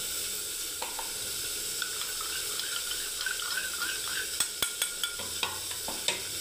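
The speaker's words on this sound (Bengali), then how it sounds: "এবারে বন্ধুরা দেখুন এখানে আমার পটলগুলোকে ভাজতে দিয়েছি আমি বন্ধুরা" Pointed gourd (potol) frying in a pan, a low steady sizzle with a run of sharp scraping stirs and clacks toward the end, fairly quiet and close with no talking.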